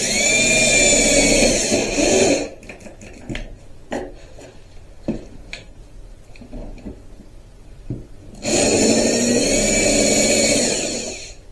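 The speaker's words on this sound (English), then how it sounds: "Man, my stinking drill battery's messed up." A cordless drill whines loudly at high speed for about two seconds, falls silent amid scattered knocks and handling clicks in a wood workshop, then whirs again at length as it drives screws into wood.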